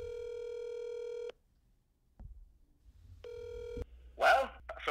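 A telephone is dialed with a burst of touch-tone beeps, then a steady electronic ring sounds, repeating after a short gap. A voice briefly speaks right at the end.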